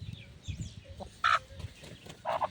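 Chickens, including a grey hen, clucking softly nearby in short, scattered bursts, with two sharper squawks standing out.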